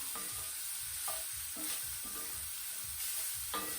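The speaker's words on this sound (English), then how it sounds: "Stir that around, mix in all of the garlic and the onion." Garlic and onion sizzle steadily in olive oil in a pan while being stirred, with soft scraping stirs recurring about once a second over a continuous faint frying hiss.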